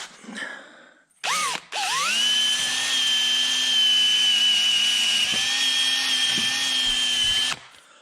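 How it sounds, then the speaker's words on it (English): A power drill fitted with a wire wheel spins up after a brief burst, then runs with a high, steady whine for several seconds before cutting off, loud and close, cleaning parts during a Silverado 1500 4L60E transmission swap. "I'm just going to take a wire wheel and a drill there"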